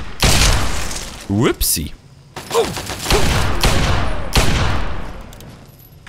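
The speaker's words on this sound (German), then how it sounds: "Ich mag es auch, wie die Magnum klingt." Several loud, booming magnum revolver gunshots in Fallout 3, fired in separated bursts, with a voice briefly talking between them.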